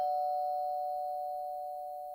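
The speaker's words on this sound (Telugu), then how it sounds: "కాలింగ్ బెల్ కొట్టారు, వెయిట్." An indoor calling bell rings with a single clear sustained electronic tone that slowly fades, heard alone in a quiet room.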